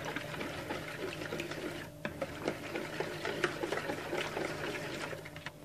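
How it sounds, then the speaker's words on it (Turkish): A hand whisk beats dough ingredients with warm milk in a bowl, giving fast, quiet rhythmic clicking and sloshing taps at close range. "Şimdi bu malzemelerimi bir kere daha çırpıcıyla çırpıyorum."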